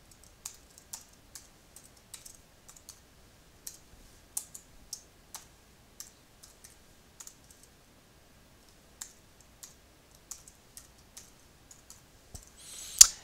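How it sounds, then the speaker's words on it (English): Password being typed on a computer keyboard: a steady run of light, sharp key clicks at an uneven pace, close and clear in a quiet room, ending with a louder burst of key presses. "So I'm going to type in my password here."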